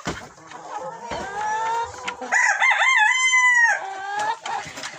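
Hens clucking and a rooster crowing loudly nearby in a chicken coop after morning feeding on a cold day, the drawn-out crow rising over busy clucks, with no talk.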